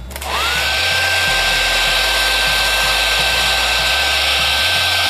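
A heat gun blasts a clamped plastic frag rack to soften it for bending: a loud, steady, close-up roar of blowing air with a thin high whine held throughout.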